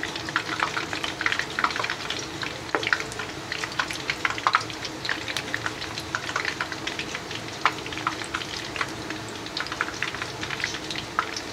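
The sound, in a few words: potato chops frying in hot oil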